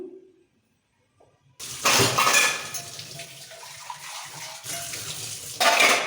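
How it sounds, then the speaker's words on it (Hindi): Dishes being washed at a home sink with running water, a steady splashing and clatter of utensils that starts abruptly after a quiet moment and continues at close range, with louder surges near the start and end. "तो मैं पहले बर्तन साफ कर लेती हूँ।"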